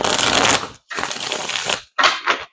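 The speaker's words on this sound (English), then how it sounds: "Okay, I'm going to do one more shuffle." Tarot cards riffled and shuffled close by in three quick bursts, separated by brief pauses, the last burst shorter.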